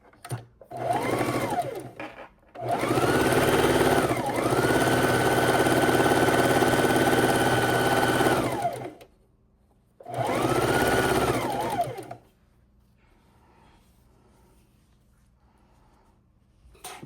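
A sewing machine stitches scrappy quilt pieces in loud, steady runs, with a long burst, a pause, then a shorter burst before the motor falls silent.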